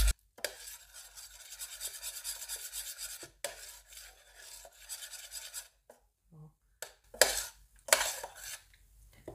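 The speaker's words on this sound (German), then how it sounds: "Das rühre ich jetzt einmal durch." A utensil stirs a cream mixture for a tiramisu cake in a bowl, giving steady scraping, rasping strokes close by, broken by short pauses and a few louder scrapes near the end.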